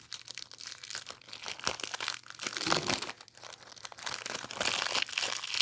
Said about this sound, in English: Let's cut it with a knife. That's all. Comes off like this. And tear it.